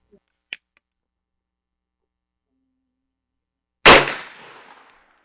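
A single sharp shot from a Rossi R92 lever-action rifle fired at a steel target at 50, a loud crack with a short decaying tail after a small metallic click, otherwise near silence.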